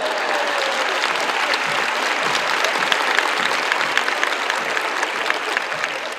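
An audience claps together in a sustained burst of applause, loud and dense throughout with no pause.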